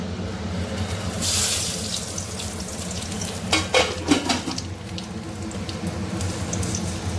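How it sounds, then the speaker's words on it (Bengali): Whole garam masala, dried chillies and bay leaves fry in hot oil in a kadai, a steady close sizzle with brief louder crackles and spatters near the middle, no voices. "এবার ফোড়নে দিয়ে দিচ্ছি গোটা গরম মশলা, শুকনো লঙ্কা আর তেজপাতা।"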